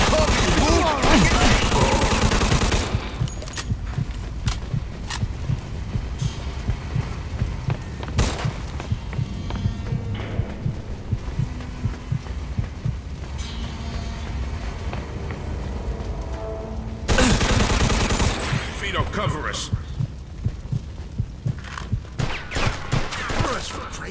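Gunfire in Mafia II, dense bursts of rapid shots and booming blasts crowding the opening seconds, thinning to scattered sharp cracks, then another heavy volley near the end, loud and close with shouting voices mixed in.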